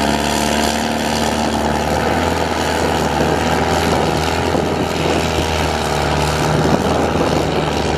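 A Farmtrac 6055 tractor runs its diesel engine at a tractor pulling competition, a loud, steady, droning roar that holds at constant strength throughout, close by and with no one speaking.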